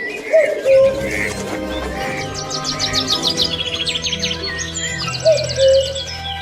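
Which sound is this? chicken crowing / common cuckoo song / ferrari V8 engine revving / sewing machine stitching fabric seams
common cuckoo song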